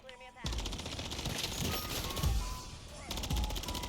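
An SMG fires sustained rapid automatic bursts in Modern Warfare 3 Zombies. The dense, loud crackle of gunfire runs almost continuously, with a brief break near the end before it resumes, over background game noise.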